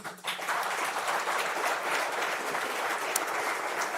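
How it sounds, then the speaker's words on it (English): A large audience at an aerospace engineering convocation breaks into applause for the graduates' parents, steady dense clapping that swells quickly and holds at moderate loudness. "And now another applause to your parents."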